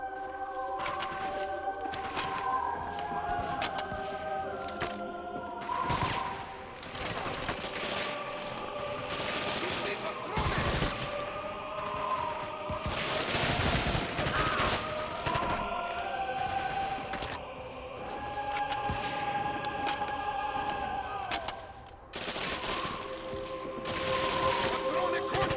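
Gunfire rattles through a World War II shooter, Medal of Honor: European Assault on PS2, with repeated bursts and heavy blasts over a constant din of battle noise, orchestral music and occasional voices.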